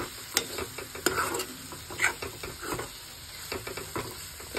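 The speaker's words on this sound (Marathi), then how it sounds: "आता आपण छान परतून घेऊ। मसाला शिजवून घेऊ।" Masala for a soybean curry is stir-fried in a pan, giving a soft continuous sizzle under frequent scraping and clinking strokes from the stirring utensil, heard up close.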